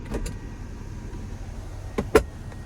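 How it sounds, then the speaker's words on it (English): The power sunshade of a 2025 Honda Pilot Touring retracting over the panoramic roof: a faint, steady motor hum inside the quiet cabin, with a couple of soft clicks and thuds. "as that sunshade goes back, here's a look at that panoramic roof there"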